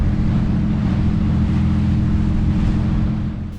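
Nordhavn 55 motor yacht cruising at 8 knots on a slightly rolling sea in 15-knot wind, loud steady engine rumble mixed with rushing water and wind noise that eases off near the end.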